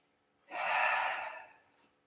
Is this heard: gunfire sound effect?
no